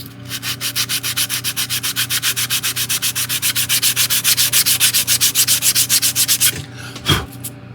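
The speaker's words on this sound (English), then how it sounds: "So just that little amount of sanding" Rapid, rhythmic sanding strokes rasp back and forth against the wooden hull of a 1:100 scale ship model, about forty even passes close up, stopping with a brief knock at the end.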